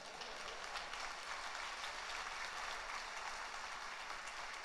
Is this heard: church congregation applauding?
yes